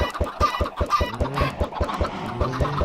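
Minecraft chickens cluck steadily in a rhythmic chorus of short, pulsing calls, some higher squawks mixed in, close and fairly loud with no talking.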